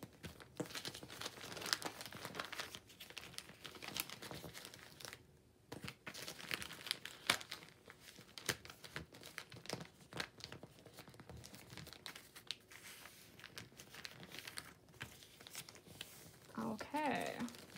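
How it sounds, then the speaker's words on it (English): Newspaper folded and creased by hand into a seed starting pot, soft crinkling and rustling with occasional sharper crackles, a voice talking quietly alongside. "we're going to fold this side so it's to that middle crease"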